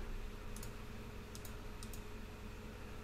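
Typing on a computer keyboard to enter a value into device configuration software, heard as a few quick, faint key clicks spread out over a steady background hum.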